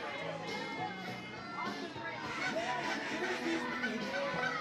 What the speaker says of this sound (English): Making a little noise with the duck calls and the fancy Jeeps.